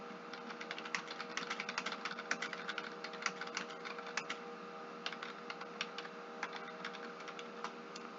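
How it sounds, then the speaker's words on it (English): Steady, rapid typing on a computer keyboard while composing an email message, with close, crisp key clicks in irregular bursts over a faint constant background hum and no talking. "I can type here."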